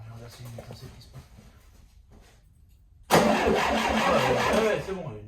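A 1971 Volkswagen Beetle engine turning over on the starter for about two seconds, loud and close, after quieter talk and a brief pause, with voices speaking before it starts.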